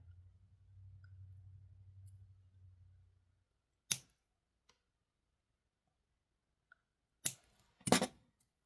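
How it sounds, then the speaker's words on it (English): Cutters snipping beading wire: after a low hum fades, a sharp close snip rings out, then two more quick crisp cuts near the end in an otherwise quiet space. "So the 16th one, we're going to snip."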